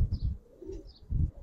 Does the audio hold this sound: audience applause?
no